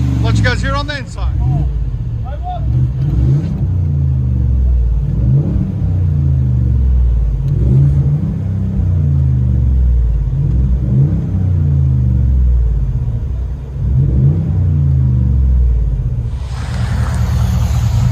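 Cabin view of a 2021 Ford F-350 with the 7.3L gasser V8 on an aftermarket exhaust, a steady low rumble droning throughout with slight swells of revving, while people talk over it.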